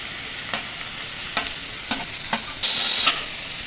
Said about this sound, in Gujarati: અને આપણું જો તેલ પણ આવી ગયું છે તો એમાં આપણે છે ગાજર, કેપ્સિકમ અને બીટ ત્રણેય વસ્તુ નાખી દેવું